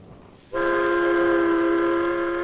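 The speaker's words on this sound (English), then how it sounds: "Ride the elevated train, all the way from the Battery far uptown." After a brief quiet moment, a loud, sustained train whistle blares and holds steady from an elevated train in New York.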